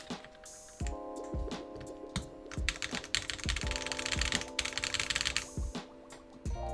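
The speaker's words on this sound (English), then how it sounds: "Keycaps make a pretty big difference in how a keyboard sounds." A mechanical keyboard with only some of its keycaps fitted is typed on in a quiet room, producing an even run of crisp, slightly airy clacks with sharp individual keystrokes.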